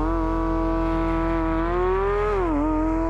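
A Porsche 911 GT3 with a PDK gearbox accelerates hard in a drag race, giving a loud, steady engine drone whose pitch climbs, briefly drops at a gear change, then resumes.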